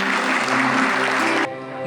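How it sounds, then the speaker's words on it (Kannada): Loud applause from a concert audience, a dense steady roar of clapping that fills the space and cuts off abruptly, with faint music lingering beneath at the end. "ನಿಮ್ಮ ಜೋರಾದ ಚಪ್ಪಾಳೆ"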